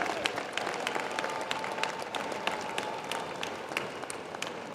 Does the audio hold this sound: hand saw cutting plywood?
no